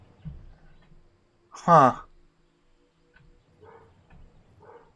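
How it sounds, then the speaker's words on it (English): A dog barks upstairs, a single short muffled woof at moderate distance amid quiet room tone, with a few faint voice murmurs around it. "you can hear the dog barking upstairs"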